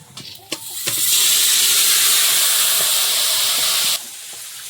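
Fish deep-frying in hot oil, a loud dense sizzling hiss that swells in after a few light knocks, holds steady for about three seconds, then cuts down abruptly to a quieter bubbling.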